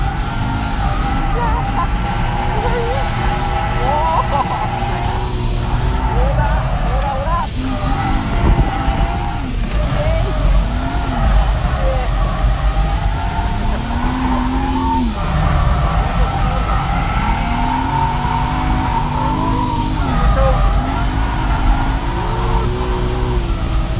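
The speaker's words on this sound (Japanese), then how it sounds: "日本のドリフト。" A BMW M3 E46 coupe drift car sliding in a Japanese drift session, engine roaring and tires squealing continuously and loudly, with rising and falling revs and occasional shouts from people nearby.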